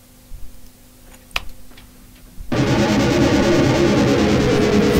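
After a few quiet ticks and clicks, a loud, dense, distorted Juno synth pad fed into a SansAmp in a feedback loop swells in abruptly and sustains with a noisy, buzzing texture.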